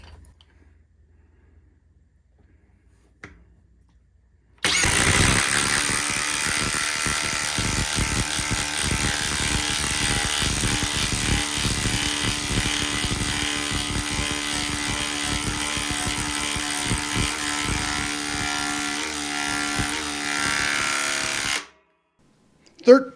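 A Senix impact driver drives a socket into wood in one long, loud, continuous burst of rapid hammering rattle and motor whine lasting about seventeen seconds, then stops abruptly, with a brief quiet lead-in before it.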